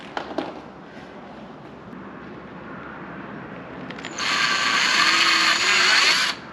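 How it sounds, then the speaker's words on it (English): A drill grinds through metal while installing a CTS-V conversion kit on a CTS-V Sport, first a low rumbling churn, then a louder, harsher high whine for the last couple of seconds before stopping. "Okay, we'll drill through."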